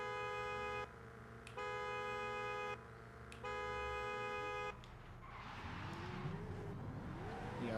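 A race car in Forza revs in steady bursts at a drift event at Texas Motor Speedway, then launches hard off the line with a rising, roaring engine and tire noise.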